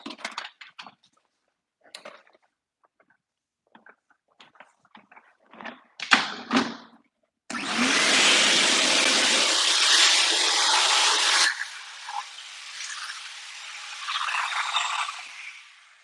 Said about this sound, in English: We're going to vacuum that up, create a bit more noise.